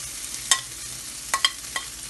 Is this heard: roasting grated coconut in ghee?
yes